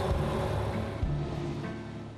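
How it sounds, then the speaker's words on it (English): Steady low engine drone and broad rushing wind inside a 1930s Bentley 8 Litre on the move, an even, continuous noise with no talk over it. "A bit of engine noise and a bit of wind noise."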